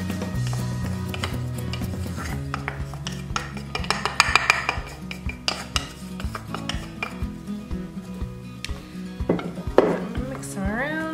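Cornstarch is stirred by hand into chopped rhubarb and strawberries in a shallow bowl for a lavender galette filling, giving close, irregular scraping, clinking and rustling that comes and goes in bursts.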